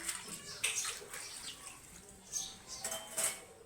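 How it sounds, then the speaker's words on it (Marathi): Water runs from a partly opened tap as utensils are washed beneath a staircase, giving faint, intermittent splashing bursts with light clinks of metal dishes, heard alone without talk. "आता थोडं उघडलं पाणी"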